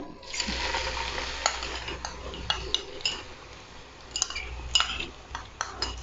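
Finely chopped onion sautéing in oil in a pan for a mixed vegetable pulao, with a soft steady sizzle under repeated clinks and scrapes of a spoon stirring against the pan, no talking.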